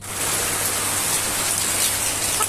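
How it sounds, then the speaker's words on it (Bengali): Heavy rain starts up again after two days of downpour at a poultry farm, a loud, steady hiss of drops pattering on surfaces, close and continuous with no voices. "প্রচুর বৃষ্টি হইতেছে আমাদের এইখানে 2 দিন যাবৎ, আবারও বৃষ্টি শুরু হলো।"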